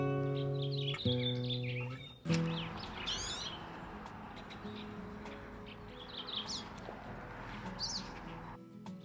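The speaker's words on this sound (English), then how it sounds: "There was a big flock of gray-crowned Rosy-Finches that were so fun to watch move around and eat the food." Gray-crowned rosy-finches and pine siskins at busy feeders at Alta ski resort give steady chirps and twittering calls throughout, with a low constant hum and a sharp thump midway.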